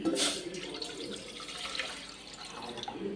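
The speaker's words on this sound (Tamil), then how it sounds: "இப்போ இந்த கிணத்தால் நாலு கிண்ணம் தண்ணி ஊற்றிடணும்" Water is poured from a bowl into a cooking pot holding washed moong dal, a steady splashing, gurgling stream close by that runs for a few seconds with no talk.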